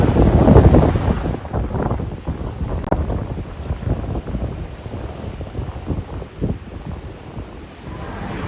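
Strong wind in Australia buffets the microphone with a continuous rumbling roar, gusting louder at the start and staying rough throughout.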